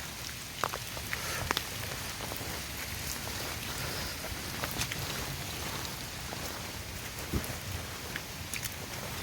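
Steady rain pours down on a mountain hiking trail on Gunung Cikuray, a dense continuous hiss with scattered drops pattering nearby, heard alone and unbroken throughout.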